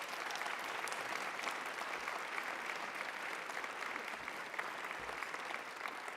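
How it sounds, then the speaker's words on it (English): Steady, dense applause from a large audience at a mayor's arts luncheon, a continuous even wash of clapping heard from a distance and kept fairly quiet throughout. "please give them a round of applause"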